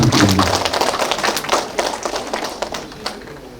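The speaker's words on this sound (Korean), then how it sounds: "많은 박수 부탁드립니다" Audience applause for a guest being introduced at a redevelopment briefing in Doksan-dong: a burst of scattered hand clapping from a modest indoor crowd, loudest at the start and thinning gradually as it fades.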